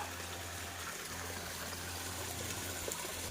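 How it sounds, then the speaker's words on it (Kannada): Stream water flowing down from higher ground beside a path through a coffee plantation in Chikmagalur village country, a steady continuous rush with a low hum underneath, unchanging throughout. "ಈ ಸೈಡು ನೀರು ಹಿಂಗೆ ಮೇಲ್ಗಡೆಯಿಂದ ಹರಿತಾ ಬರ್ತಾ ಇದೆ"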